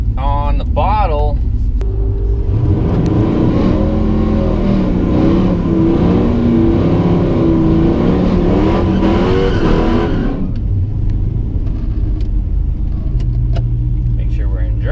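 A 6.1 HEMI drag car on nitrous launches at a drag strip, its engine swelling into a loud, sustained roar for several seconds before cutting off, with a low idle rumble before and after.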